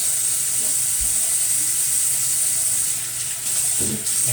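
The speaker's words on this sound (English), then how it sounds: "And everything cleans away and drains really quick." Water rushing quickly down a kitchen or bathroom sink drain after a blockage is cleared, a loud, steady close-up hiss and gurgle running throughout without a break.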